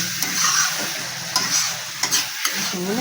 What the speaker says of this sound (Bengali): এবার একটু হলুদটা দিয়ে দেবো, দিয়ে আর একটু ভাজা ভাজা করবো